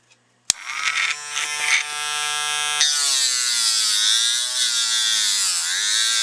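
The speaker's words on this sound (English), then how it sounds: "I've mounted it in the motor tool there, and I'm just going to use some sandpaper to clean that up the rest of the way." A rotary motor tool whines steadily as sandpaper is pressed to a Lionel passenger car truck wheel to clean and polish it, starting with a sharp click and a rising spin-up before settling into a continuous close, loud high-pitched hum.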